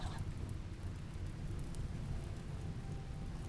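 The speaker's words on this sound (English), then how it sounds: "It cracks me up that an indoor fire causes it to rain outside." Steady rain in the video game Rimworld, falling outside during an indoor fire, makes an even, continuous hiss with a low rumble beneath, holding at constant loudness throughout with no voices.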